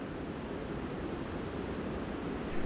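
Water pours steadily over the river weir at Carsland, a dense, continuous rushing roar that stays even throughout, heard close and alone with no voices.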